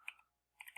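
Computer keyboard typing, with a quick cluster of soft keystroke clicks, a brief pause, then another rapid flurry of taps, close and fairly quiet.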